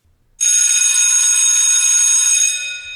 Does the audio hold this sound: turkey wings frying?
no